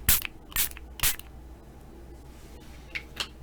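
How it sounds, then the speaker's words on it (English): Several short bursts of an aerosol or pump spray, hissing puffs in a loose cluster near the start and two more a couple of seconds later, close and fairly crisp in a quiet room. "Hear my spray."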